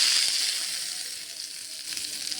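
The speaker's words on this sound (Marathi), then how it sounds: "गॅस बंद झाला की लगेच गरम गरम तडका आपल्याला चटणीला तडका द्यायचा आहे" Hot tadka tempering poured over chutney for dosa crackles and sizzles loudly and steadily, a dense close-up hiss with small pops throughout.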